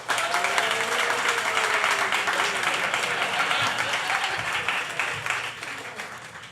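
A raucous debate audience applauds as Peter Schiff, Euro Pacific Capital CEO, comes to the stage: dense, loud clapping with cheers that holds steady and then begins to thin toward the end, with a voice speaking faintly underneath.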